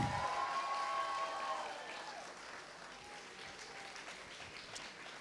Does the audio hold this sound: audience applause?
yes